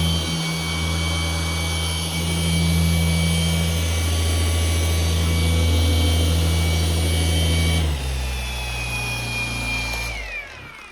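A Shinemate EB351 cordless polisher runs loud and steady at speed 6, a continuous high-pitched whine with a deep hum beneath. Near the end the motor spins down and the pitch falls.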